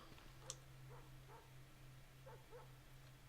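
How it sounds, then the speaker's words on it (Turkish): A dog in the horror video game Wick gives several faint, distant whimpers and yips spread over a few seconds, set over a low steady hum of game ambience. "bir de köpek mi var yani şimdi?"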